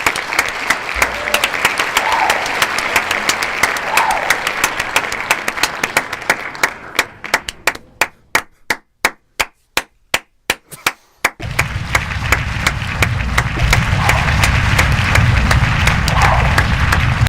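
A round of applause welcomes a podcast guest, starting as loud steady clapping close by. It thins to a few isolated claps with near silence between, then gives way to a loud, noisy background.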